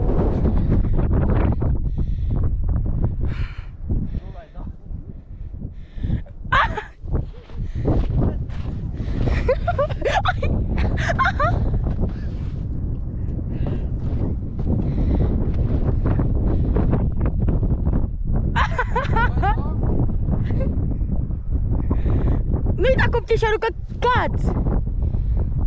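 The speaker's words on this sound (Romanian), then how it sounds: "Ioi, că vine vântul!" Strong wind buffets the microphone outdoors in a steady, heavy roar throughout, with voices talking and calling out over it in bursts.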